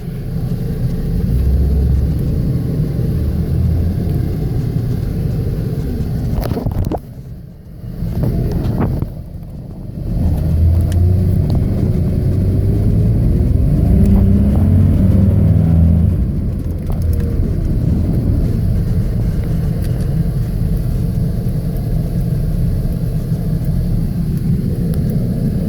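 Chevrolet Astro conversion van on the road, a steady low engine and road rumble with heavy wind buffeting on the microphone and a brief dip where the noise drops out.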